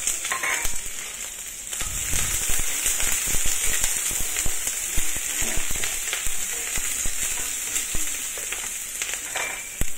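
Garlic, ginger and onion fry loudly in a pan for a pork belly dish, a steady close hiss with dense crackling pops and occasional stirring scrapes throughout.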